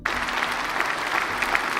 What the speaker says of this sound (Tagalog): Grabe yung palakpakan ng mga hudas